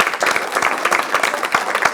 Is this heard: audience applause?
yes